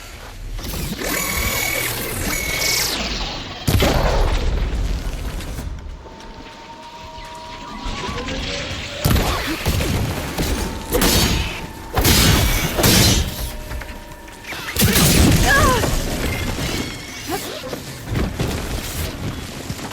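Fire shots and explosions in the video game Horizon Forbidden West, with loud crackling blasts, whooshes and rumbling impacts layered over a busy game soundscape, no voices.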